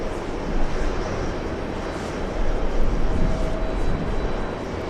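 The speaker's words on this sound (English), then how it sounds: "That's the arrival on 22 left, and we have another one on final approach." Broad, steady engine roar of an airliner on arrival at JFK airport, a continuous loud rumble that swells slightly midway with no talk over it.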